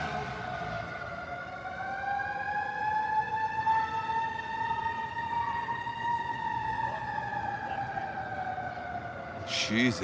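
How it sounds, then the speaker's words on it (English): A wailing siren from a fire department snorkel truck sweeps up and down continuously, fairly close and steady, with a sharp clatter near the end. "We got sirens rolling through here right now."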